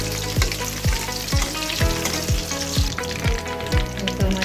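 Fish fries in hot oil with a steady loud sizzle, broken by regular rhythmic scraping or stirring strokes about every half second, with no talk.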